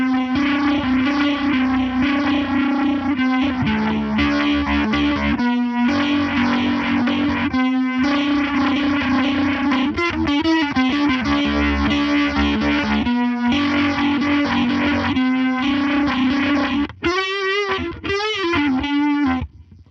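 Boss RT-2 rotary ensemble pedal at maximum drive on electric guitar, a loud, continuous distorted swirl of chords with brief dropouts and a final pair of warbling, pulsing notes.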